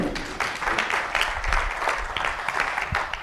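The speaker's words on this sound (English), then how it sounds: "Big round of applause." An audience at a business summit applauds for a few seconds before a keynote, a dense, moderately loud patter of clapping that stays fairly even throughout.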